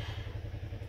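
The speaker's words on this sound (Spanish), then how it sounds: "¡Ya estoy sacando la moto!" A motorcycle engine idles nearby with a steady low, pulsing thrum and a faint clatter, heard alone for under a second.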